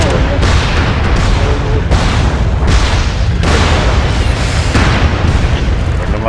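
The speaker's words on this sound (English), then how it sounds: "Cuidado, Luis, cuidado con el bombardeo" Heavy bombardment in the online shooter MAG: repeated loud explosions and booms rolling through a dense battlefield din, one blast after another with crackling debris between, while a voice speaks now and then underneath.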